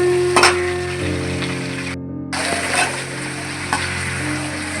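Onions sautéing in a pan in oil for a South Indian coconut milk rice, with a steady, close sizzle and fry throughout, a few stirring clinks, and a short break in the middle.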